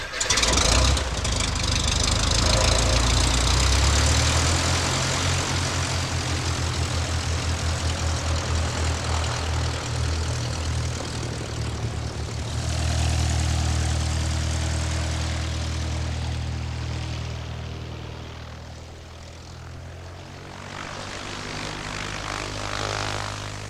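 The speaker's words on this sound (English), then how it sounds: "After completing my checklist, I adjust the mixture at full throttle for maximum RPM" Light propeller airplane engine roaring at full throttle for a short-field takeoff with 10 degrees of flaps, a loud steady drone that surges, eases slightly midway, then dips and rises again near the end.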